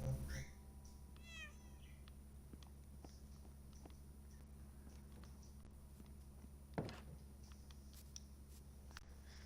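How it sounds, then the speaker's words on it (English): Several cats meow in a quiet room, one clear rising call near the start followed by soft pawing and light patter, with a sharper thump later; the sounds stay fairly close and faint. "Good kitties."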